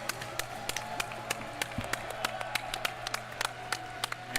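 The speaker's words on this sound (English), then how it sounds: "big round of applause for Pat Lors" Scattered applause from a fighting game tournament crowd, loose individual claps popping irregularly over a low hall rumble, moderately distant and fairly sparse.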